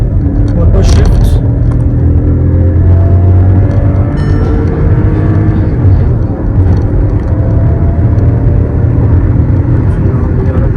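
A 2023 Skoda Slavia 1.0 TSI with a manual gearbox drones steadily from inside the cabin as it revs hard and shifts through its gears, the engine tone rising and settling under continuous road and engine noise.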